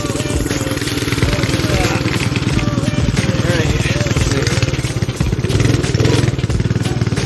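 A small go-kart engine runs loudly and close during a brake test drive, a rapid buzzing putter with clattery texture that rises and falls slightly, with some talk over it.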